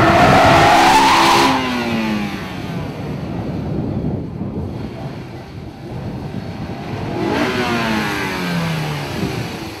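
Car doing a burnout on Goodyear Eagle GT tires, a loud engine roar with a squealing tire note that rises and then drops back to a rumbling, rough rev, swelling again near the end with no talk.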